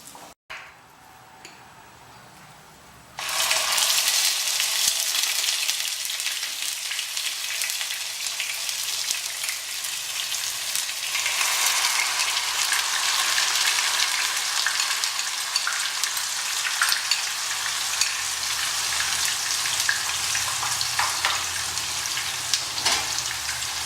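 Chicken bhuna ingredients sizzle lightly in a pan, a steady dense crackle that bursts in loudly after a short quiet start and holds close and even throughout.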